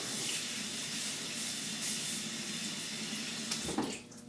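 Cold water runs steadily from a tap for head shaving: a close, even rushing hiss that falters and thins out near the end.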